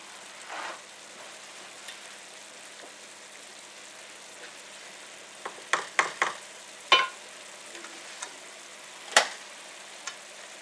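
Grease sizzles faintly in a frying pan as a casserole cooks, a soft steady crackle broken by a handful of sharper pops and spits toward the end.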